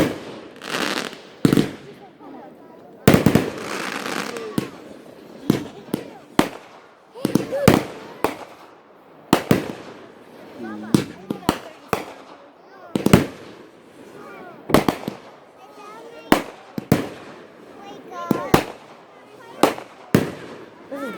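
Backyard Fourth of July fireworks show with repeated sharp bangs and crackling bursts at irregular intervals, some close and loud, others fainter, with people talking and calling out between explosions.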